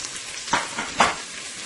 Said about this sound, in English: I am going to go ahead and add some garlic to my oil, just a little bit of garlic.